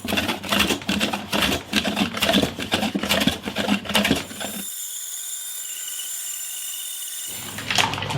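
A power tool cuts guitar veneer slabs to size, with rapid buzzing, chattering strokes for several seconds, then a smoother steady whine as it runs free, close and loud with no speech.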